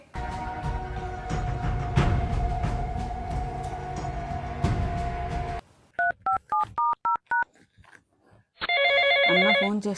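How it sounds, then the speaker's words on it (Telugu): A phone signals an incoming call: after a stretch of steady household noise, a series of short electronic beeps plays, then a sustained trilling ring, close and clear. "అన్న ఫోన్ చేస్తున్నాడు,"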